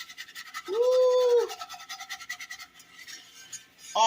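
A whisk scraping seasoned flour bits from the bottom of a cast iron skillet, giving rapid rhythmic scratchy strokes, close and fairly loud, briefly overlapped by a voice.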